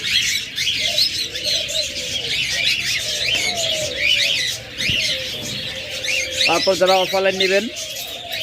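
A budgerigar and cockatiel breeding pair chirps and calls in a bird shop, with busy chatter and a few louder tonal calls near the end, under steady talking.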